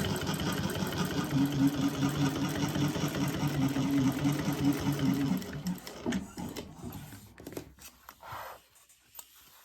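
A sewing machine runs steadily for about five seconds, stitching an eighth-inch seam along the flap of a crossbody bag, then stops. Scattered handling clicks and rustles follow as it falls quiet. No one speaks.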